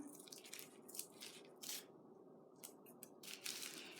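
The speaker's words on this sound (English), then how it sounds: "to make your petals more attractive, you are going to want to cut the ends." Scissors snip through tissue paper, rounding off the ends of flower petals in a quiet series of soft, crisp cuts with brief pauses between them.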